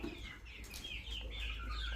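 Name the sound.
hens clucking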